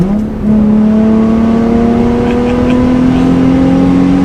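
A Nissan 350Z sports car accelerates hard through a gear, its engine note climbing in a smooth steady rise, loud and close, with no pause or talk.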